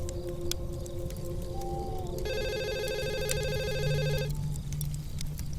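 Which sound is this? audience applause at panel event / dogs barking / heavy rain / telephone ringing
telephone ringing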